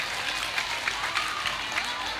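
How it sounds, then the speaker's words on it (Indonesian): An audience at a lively sermon claps in a steady, moderate round of applause, with a few voices murmuring underneath. "Tepuk tangan dulu."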